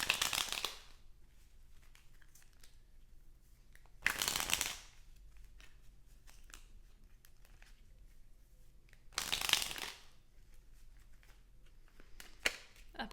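Fortune cookie oracle cards shuffled in three separate bursts of rapid riffling, each lasting about a second, with quiet handling between them.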